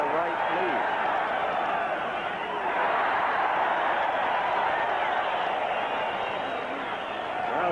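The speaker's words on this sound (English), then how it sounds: "Crowd came alive with a Sanchez left." A boxing crowd at a Salvador Sánchez title defense against Juan Laporte roars steadily, a broad, dense wash of cheering that swells briefly around a Sánchez left punch and stays loud throughout.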